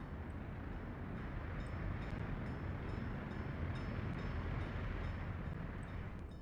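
A coal train in the city-building game Workers & Resources: Soviet Republic rolls along as a steady, low, faint rumble, continuous and unbroken with no voices.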